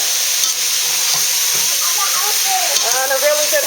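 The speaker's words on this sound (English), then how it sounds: "Okay, so we're just going to saute this up." Ground beef sautéing in a pot for lasagne, a steady hiss of frying close by with light stirring, and a voice, apparently a child's, chattering faintly toward the end.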